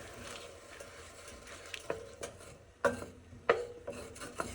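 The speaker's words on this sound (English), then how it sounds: "Always trying to just get a little scrape on that stuff on the sides." A spoon stirs and scrapes lemon chicken around a pan, giving soft rasping rubs with a few sharper scrapes against the sides, close and moderately quiet with no talking.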